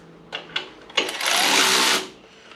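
A few sharp clicks, then a buzzing run of about a second, as a belt tensioner adjusting bolt on a Subaru is tightened, close up with no talking.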